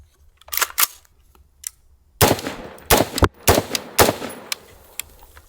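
AR-15 style direct impingement rifle firing outdoors, sharp loud cracks in uneven bursts with two and three shots close together and a quiet gap between, each followed by a brief ringing tail.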